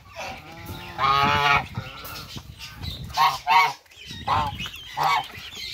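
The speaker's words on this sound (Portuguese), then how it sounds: "Só o ganso adulto, ele tá aqui bicando as minhas costas." Adult goose honking loudly and repeatedly up close in bursts, with nasal calls separated by short pauses; goslings are nearby on a wet floor.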